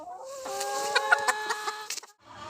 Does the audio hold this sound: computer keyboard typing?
no